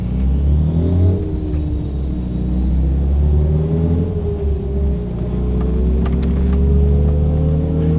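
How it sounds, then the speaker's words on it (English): Car engine held at a steady 2500 RPM in fourth gear on a chassis dyno, a loud continuous droning hum with a slowly rising pitch and no talk over it. "Let's get the engine running now in fourth gear at 2500 RPM"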